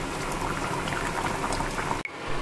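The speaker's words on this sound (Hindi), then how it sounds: "और सब्जी एकदम बॉयल हो गया है" Vegetables boiling in a pot of water for Bengali sukta, a steady close bubbling and simmering hiss that cuts off briefly with a soft knock near the end before resuming.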